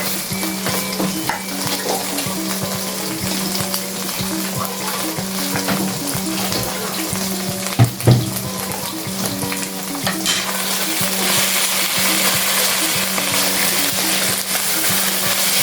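Shrimp paste (alamang) frying and being stirred in a pan with seasoning added, a steady close sizzle with scraping stir strokes throughout, one sharp clatter near the middle, and no talking.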